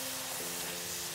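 Minced meat keema fries in a pan with spices, giving a steady, even sizzle that stays close and constant throughout, with no voices.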